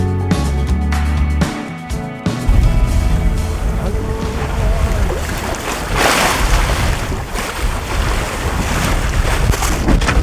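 Strong wind blows across a sailboat at sea with heavy squalls around, a steady loud rush with buffeting microphone noise and water sounds, preceded by a short burst of other sound at the very start.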